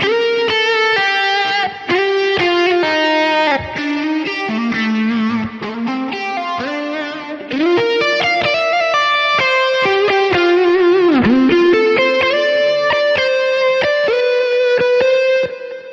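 Soloed distorted electric guitar tracks in a Cubase mix play chordal riffs and sustained notes through a phasing effect. The sweeping modulation swells and recedes, with brief dropouts as parts are pulled in and out.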